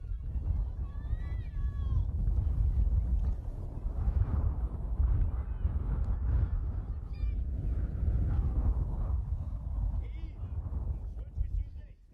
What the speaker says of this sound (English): The wind is certainly picking up now. It's a lot stronger than what it was.